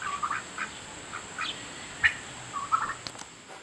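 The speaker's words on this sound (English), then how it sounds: "Our ducks are a lot of fun. They have a lot to say." Farm ducks quacking in an animal barn: several short, nasal quacks scattered irregularly at moderate distance, faint to moderate over a quiet background hiss.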